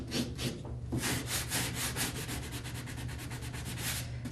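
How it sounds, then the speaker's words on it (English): Wood sanded by hand to round over its edges, a steady rhythmic rasp of repeated back-and-forth strokes. It plays quietly and alone, with no talking. "I'm going to sand that down."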